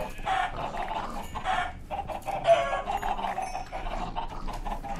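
Minecraft chickens clucking and squawking in a video game, a busy run of fowl calls in short bursts, fairly close and clear, with no talk over them.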